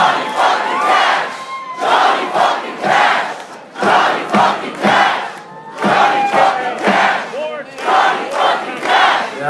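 A concert crowd at a show roars and cheers loudly in repeated surging bursts, a dense wall of shouting voices that rises and dips rhythmically up close.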